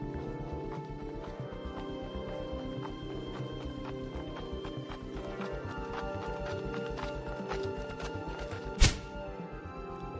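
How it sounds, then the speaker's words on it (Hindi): A horse's hooves clip-clop in a quick, steady galloping rhythm as a rider sets off, heard over background music and ending in one sharp, loud crash. "ये सारी बातें सोचकर वह अपने घोड़े पर सवार होकर निकल पड़ता है।"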